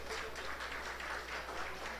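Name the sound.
applause at awards ceremony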